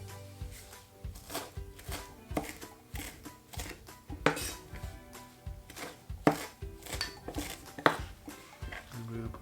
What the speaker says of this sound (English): So we're going to fine chop the cilantro.